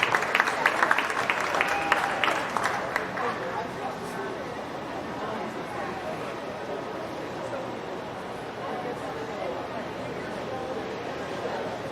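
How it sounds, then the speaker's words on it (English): A crowd at a county fair beef show claps for a showman and a Shorthorn heifer in the ring, a brief burst of applause over the first few seconds that fades into a steady low murmur of barn chatter. "Give that showman and that heifer a nice round of applause."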